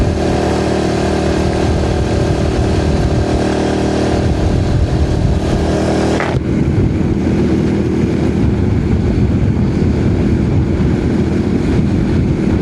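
A Honda C90 motorcycle with a new engine drones loudly and steadily while being ridden, with strong wind rush across the microphone and a slight shift in engine tone about halfway through.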